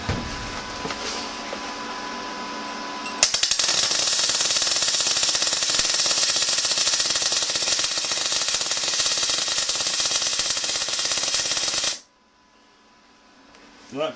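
MIG welding bead laid with a Röhr MIG-200MI inverter welder, a loud, steady crackling buzz running for about nine seconds before stopping abruptly, with quieter background before and after.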